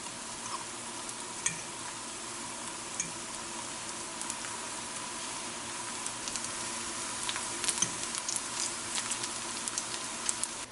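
Vegan meat patties sizzle in a hot pan as they cook fast, a steady low frying crackle with occasional small pops and stirring scrapes, fairly faint and with no talk over it.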